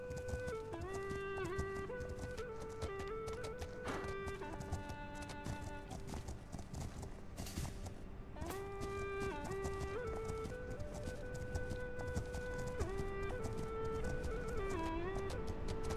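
A horse galloping in The Legend of Khiimori, a rapid clip-clop of hooves running steadily beneath melodic game music.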